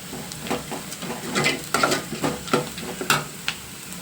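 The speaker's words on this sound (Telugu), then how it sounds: "బాగా గోల్డెన్ బ్రౌన్ కలర్ కొంచెం కలర్ మారేంత వరకు వేయించేసుకుని క్యారెట్ ముక్కలు వేసేసుకోవడమేనండి" Carrot pieces fry in a pan with a steady close sizzle while a utensil stirs them in repeated scraping strokes, loud and alone with no talk.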